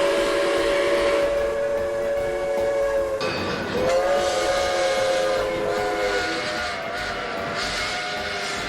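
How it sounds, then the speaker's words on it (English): Two steam whistles sound together, long and loud, their tones sliding and overlapping as a train passes close by, with rail rumble beneath. "Two engines whistled excitedly in welcome."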